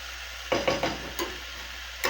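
Food cooking in a pan at home: a low, steady background sizzle, broken by a few short scraping and clattering bursts as the pieces are stirred, close and fairly loud, with no talking.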